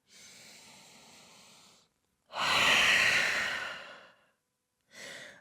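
Three slow, deep breaths close up during yoga in downward dog: a long exhale, a louder, fuller breath, then a short final one, with quiet pauses between.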